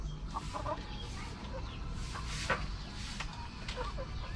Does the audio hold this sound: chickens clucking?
yes